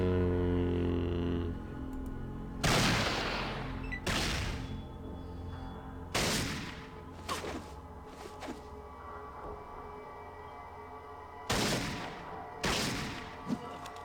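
Gunshots in the video game Fallout come as about seven sharp, booming blasts spread irregularly over a quiet background, each ringing out briefly before fading.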